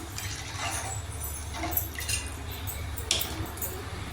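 Rasam being stirred in a pot right after rasam powder goes in, soft wet swishing and a faint clink of the spoon against the vessel over a steady low background hum.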